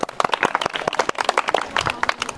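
Scattered hand claps from a group at a school quiz game, a quick irregular patter of sharp slaps lasting a couple of seconds after a team answers correctly, fairly close and without talk.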